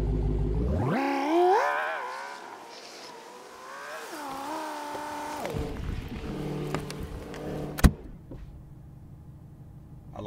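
A Dodge Hellcat drives slowly around a parking lot. Its engine note swells and falls in smooth pitch glides as it speeds up and eases off, and one sharp click stands out late in the clip.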